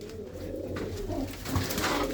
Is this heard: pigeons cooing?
yes